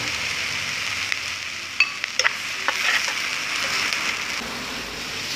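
Chicken with tomato sauce and pepper stirred in a frying pan, a soft steady sizzle with a few light scrapes and taps of the spoon against the pan.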